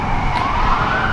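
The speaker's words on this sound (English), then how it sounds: "an ambulance, maybe a fire truck, race down the street." An ambulance or fire truck siren sounds steadily as the vehicle races down a nearby street behind a residence, a loud continuous wail over low road rumble with no talk.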